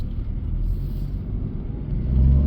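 The three-cylinder engine of a Jeep Avenger runs in Mallorca, a steady low throbbing rumble heard from inside the car that grows slightly louder toward the end.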